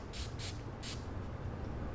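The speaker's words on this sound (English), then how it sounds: "this is the Farsali 2K Rose Gold Mist. You can use this as a primer or as a setting spray." Three quick hissing bursts of Farsali Rose Gold setting mist sprayed close by, short puffs in quick succession over a quiet background hum.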